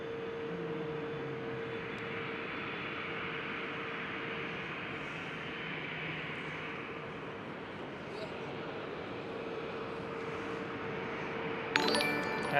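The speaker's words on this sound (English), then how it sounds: "JetBlue A321neo. Pushing back." A JetBlue A321neo jet pushing back at Schiphol airport, a steady distant engine roar and hum under broad airport noise, continuous throughout.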